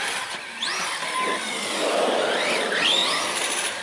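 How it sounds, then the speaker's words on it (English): A Redcat Valkyrie RC truck drives after a repair, its electric motor whining and rising in pitch with brief squealing sweeps as it speeds up, fairly close and without talk. "See, now the truck's moving great."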